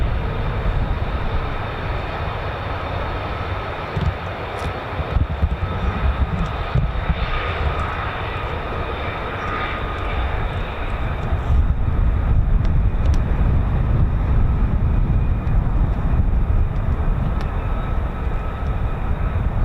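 Fighter jets, F-15s and F-35s of the 48th Fighter Wing, arriving at RAF Lakenheath air base, heard as a steady, loud engine roar that swells louder and rougher in the second half.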